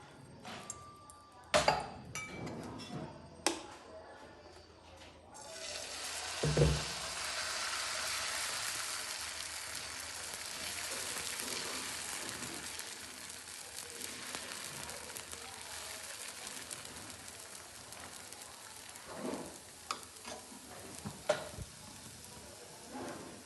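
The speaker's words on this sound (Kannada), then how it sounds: "ದೋಸೆ ಹಾಕ್ತಾಯಿದ್ದೀನಿ ನೋಡ್ಕೊಳ್ಳಿ." High-protein dosa batter sizzles and fries on a hot pan in a North Karnataka-style kitchen, a steady close hiss lasting most of the time, with occasional clinks and taps of a ladle or utensil against metal.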